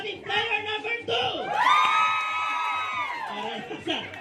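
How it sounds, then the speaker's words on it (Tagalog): Audience at a first-birthday party cheering for party game players, with loud whoops and a long drawn-out shout over crowd noise and talk. "Then palakpak para sa ating player number 2!"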